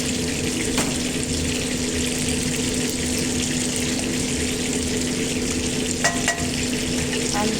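Water goes into a loudly sizzling pan during a fish with cream sauce dish while the contents are stirred, making a dense, continuous hiss and bubbling with a few brief utensil clicks.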